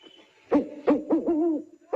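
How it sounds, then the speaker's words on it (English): An owl hoots several times in quick succession, close and clear against a quiet background. "At night, we hear the hooting of owls."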